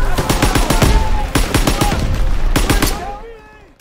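Rapid bursts of rifle and machine-gun fire crackle through a Call of Duty: WWII battle, with sharp overlapping shots in quick clusters that are loud and close before thinning out toward the end.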